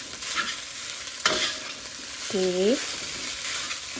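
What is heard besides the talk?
stirring fried rice in a frying pan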